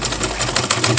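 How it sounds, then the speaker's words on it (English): A sewing machine top-stitches about an eighth of an inch along a sleeve hem with a belt-like band, a steady, close mechanical whir filling the short moment. "So I'm going to top stitch it by just like 1/8."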